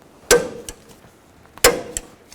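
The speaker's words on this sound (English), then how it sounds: "Now I'm going to torque these bolts to 122 foot-pounds." Two sharp metallic clicks from a torque wrench reaching its set value while tightening brake caliper bolts on a 2000-2006 Chevy Tahoe rear brake, spaced about a second apart, close and distinct over a quiet garage background.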